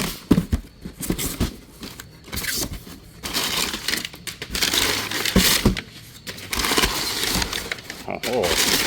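A cardboard packaging box holding intake parts is torn open and handled, producing irregular crunching, ripping and rustling bursts close by, mixed with someone talking.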